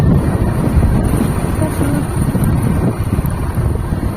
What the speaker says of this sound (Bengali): আর এই হাওয়াটা একটু সুন্দর, মনে হচ্ছে গরমটা মানে আমাদের গায়ে লেগে চলে যাচ্ছে